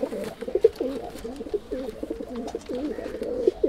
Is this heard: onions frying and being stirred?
no